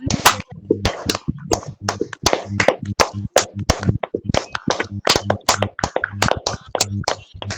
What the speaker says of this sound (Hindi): एक बार जोरदार योगाहार परिवार की तरफ से तालियां हो जाए